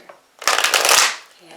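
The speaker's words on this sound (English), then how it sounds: "One more shuffle." A deck of tarot cards is riffled in one brisk, loud shuffle of rapid flutter lasting under a second, recorded close.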